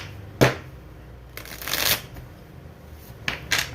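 A deck of tarot cards being shuffled up close, with several short riffling bursts separated by quiet gaps and no talking.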